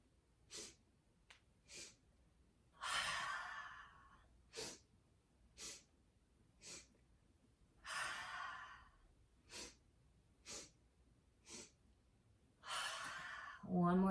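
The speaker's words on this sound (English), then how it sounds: "inhale, inhale, inhale, exhale, inhale, inhale, inhale, exhale." Deep, slow yoga breaths during a gentle hatha practice: several short sharp inhales followed by longer, airy exhales, repeated in a steady cycle, close and quiet against a silent room.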